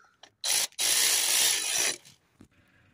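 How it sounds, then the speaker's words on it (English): A ratchet tightens the alternator bolts on a Ford Focus C-Max 1.6 TDCi, giving two loud, close bursts of rapid clicking, a short one and then a longer run of more than a second, followed by a few faint knocks. "now we're just putting the bolts back in for the alternator here. I'll just get those tightened in"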